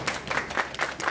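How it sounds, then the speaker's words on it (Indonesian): A few people clap during a mathematics podcast chat with 2023 math ambassadors, a short, quiet patter of hand claps with about five distinct pulses. "Tepuk tangan dong guys."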